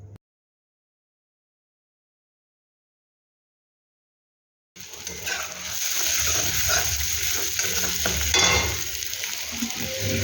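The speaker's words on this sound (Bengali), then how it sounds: "তারপর খুব ভালো করে কষিয়ে নেব মশলাটা।" After a few seconds of silence, a spice paste with cumin and turmeric powder starts frying loudly in oil, giving a dense, continuous sizzle with occasional stirring scrapes.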